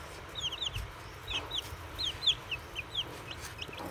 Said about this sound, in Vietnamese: Mình đã chung với cái bầy gà này